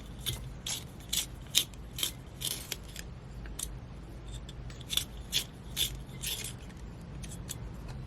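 A green coloured pencil being sharpened, a run of dry, scratchy grinding bursts in an uneven rhythm, fairly close and faint, with no talk.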